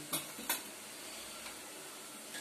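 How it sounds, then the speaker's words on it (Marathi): A spoon scrapes twice through fenugreek (methi) bhaji in a pan just after salting, followed by a softer stir and a faint late clink over a quiet low sizzle. "जरा मिक्स करून घेऊया"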